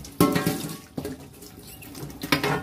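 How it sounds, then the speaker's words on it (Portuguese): Water splashes and pours over a crusty cooking pan during cleaning, a few sharp splashing bursts with quieter running water between them, close to the microphone. "Vou até jogar água pra vocês verem."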